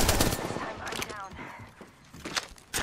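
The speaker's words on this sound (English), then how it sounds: "Getting shot at!" Rapid bursts of R99 submachine gunfire from the Apex Legends video game, loud and crackling in several volleys over about three seconds, with a voice talking over parts of it.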